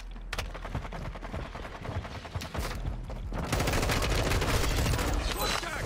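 Call of Duty DMZ firefight with dense automatic gunfire, rapid bursts that grow louder and merge into a sustained stream of shots.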